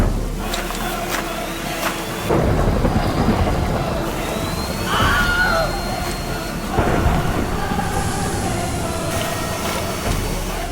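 A leaf blower drives strong wind and simulated hail against a LEGO set on a table. A loud, continuous roaring rush surges in several waves, with clattering and rattling on top.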